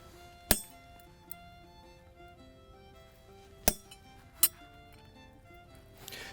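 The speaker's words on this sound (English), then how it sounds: "You can see I'm angling the chisel just a little bit to get one edge of the cut to kind of pop up and give a little tooth." A hammer striking a chisel to cut teeth into a steel file, three sharp ringing metallic blows spaced irregularly, close and clear against a quiet background.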